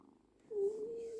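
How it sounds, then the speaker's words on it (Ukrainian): A tiny kitten purrs while suckling, a soft, steady close-up rumble that starts after a brief quiet moment and continues evenly. "Це ж котеня мурчить, не кішка."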